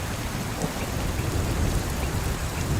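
Steady heavy rain during a thunderstorm on an ultra-endurance race course, a dense continuous hiss of falling water with low rumbling thunder underneath, loud and constant throughout with no voices.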